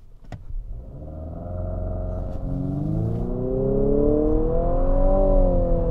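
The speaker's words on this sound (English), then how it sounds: "we're gonna brake torque and see how fast she goes" A 2022 Infiniti QX55 launches from a brake-torque start with traction control off. Its engine drone climbs steadily in pitch as the crossover accelerates hard without shifting, heard from inside the cabin, loud and continuous after a brief click at the start.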